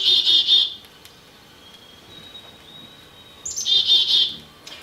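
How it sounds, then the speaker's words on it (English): A black-capped chickadee gives high, buzzy notes in two short bursts separated by a quiet gap with a thin whistle, clear and fairly close. "black-capped chickadee."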